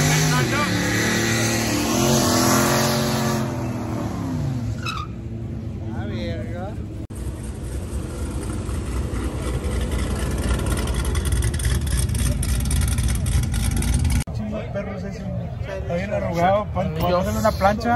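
Race cars testing at a night session at HMP race track, engines revving and sweeping past in loud rising and falling passes, with people talking throughout.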